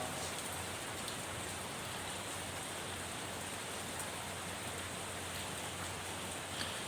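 Heavy rain pours down steadily in Ernakulam, a dense, even hiss of drops hitting surfaces that stays constant throughout, with no voices.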